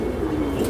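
A racing homer pigeon kept for breeding coos softly and steadily at close range in a short, low murmur.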